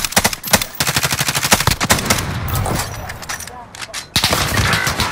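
Rapid automatic gunfire from the Warzone battle royale video game, dense bursts of shots stacking up over the first few seconds and then continuing more sparsely, loud and close.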